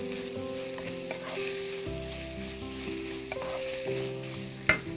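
Chicken fried rice sizzles in a hot pan while a utensil stirs and scrapes through it, a steady close crackle with occasional clinks and one sharper knock near the end, with no voices.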